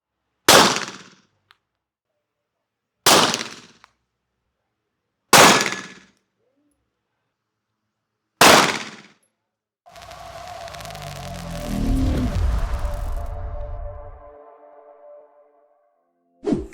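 Gunshots at a Thai shooting range: four sharp, loud single reports spaced a few seconds apart, followed by a longer rumbling burst of clattering noise and a final shot at the end.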